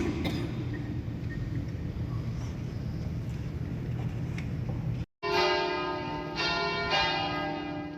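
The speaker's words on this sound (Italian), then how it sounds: "Suonano le campane alla fine della messa." Church bells ring out at the end of a funeral mass, a steady peal of tolling strokes heard outdoors under wind noise, cutting briefly before resuming clearer and closer.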